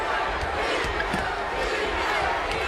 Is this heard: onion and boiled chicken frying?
no